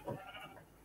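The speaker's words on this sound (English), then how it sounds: "Poor sheep. There's so many animals." A sheep bleats in Minecraft, one short nasal call near the start of the clip that fades into a quieter tail, heard alone with no speech.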